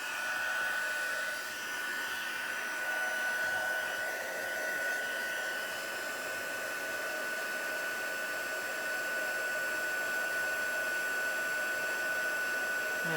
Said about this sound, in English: bring my embossing gun, my heat gun, out